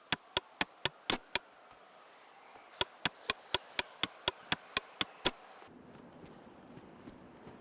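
Sharp wooden knocks of a hatchet nailing planks to a fence in the survival game DayZ, two quick bursts of about six and ten evenly spaced hits, fairly close and alone, with faint outdoor ambience after.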